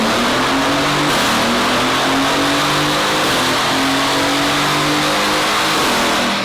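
A loud tuned Mercedes-AMG GT engine revs hard and climbs in pitch, dropping briefly as it shifts up through the gears, then pulling again, close and sustained.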